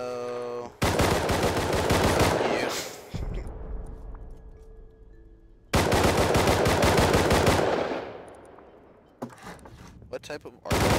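Rapid automatic gunfire in the game Rust, two long sustained bursts of loud, close shots with a brief choppy burst near the end, separated by a short lull.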